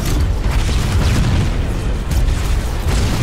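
Rocket launcher explosions in Halo: Combat Evolved Anniversary on PC, a loud continuous booming rumble with heavy low blasts rolling one into the next, no talking.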